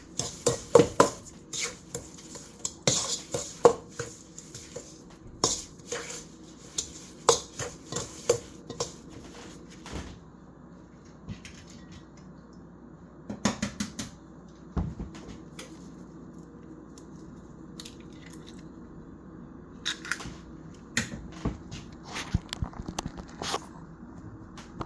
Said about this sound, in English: I'm just going to beat this in one egg at a time